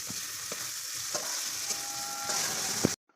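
Paneer pieces sizzle in hot oil, a steady frying hiss broken by a few clinks and scrapes of a stirring utensil, close and moderately loud, before cutting off abruptly.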